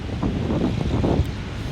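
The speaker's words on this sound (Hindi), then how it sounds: "बहुत तेज़ हवा चल रही है" Strong wind gusts across an open rooftop, a loud, continuous rumbling buffet of wind noise on the microphone with no voices.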